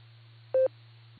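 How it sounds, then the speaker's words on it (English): A short, clean electronic beep tone sounds once over a steady low hum on an amateur radio repeater channel, then the carrier drops off. "Let me beep here."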